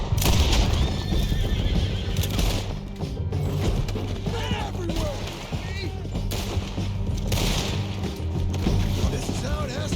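Horses neigh and gallop during a chase in the Red Dead Redemption 2 video game, with pounding hooves, repeated whinnies and gunfire mixed under a busy game soundtrack and voices.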